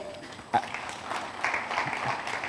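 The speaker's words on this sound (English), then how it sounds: "I think we should give them a round of applause" An audience at a cyber security summit claps for Lanka Pay, a steady wash of applause building after a sharp opening clap and holding moderately loud to the end, with no voices on top.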